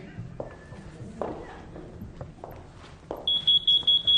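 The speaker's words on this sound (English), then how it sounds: "Clear yourself through the metal detector, please." A walk-through metal detector at a staff security checkpoint gives a rapid string of sharp, loud high beeps near the end, after several soft footsteps and shuffles.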